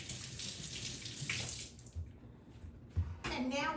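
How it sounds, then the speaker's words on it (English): Fish rinsed under a running kitchen tap: a steady, fairly faint hiss of flowing water that dips briefly midway, then surges back. "Got to give a quick rinse."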